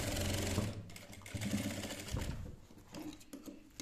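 A sewing machine stitches a folded blouse belt in short bursts of whirring and clattering needle runs, with brief pauses between them, fairly close and alone.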